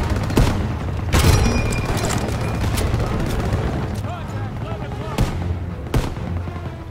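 Gunfire and explosions in a Call of Duty WW2 battle during Operation Cobra, with sharp booms near 0.4, 1.2, 5.2 and 6 seconds over dense, continuous combat rumble and scattered shots.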